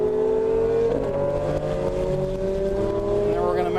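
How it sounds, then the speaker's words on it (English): A Ferrari at full throttle on the Virginia International Raceway circuit gives a loud, continuous engine drone whose pitch climbs steadily as it accelerates, with a brief shift in the note near the start. "then we're going to mat the gas and go"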